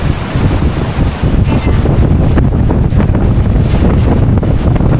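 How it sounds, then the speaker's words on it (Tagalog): Strong sea waves and gusting wind heard from aboard a boat, a loud, dense roar of wind buffeting the microphone over churning water, continuous and close, with no voices. "Malakas ang alon"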